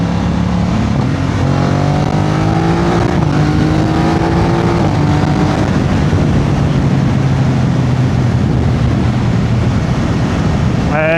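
A BMW R1250 GS Adventure motorcycle accelerates away, its engine note climbing and shifting up through the gears before settling into a steady drone that fades against strong wind rush.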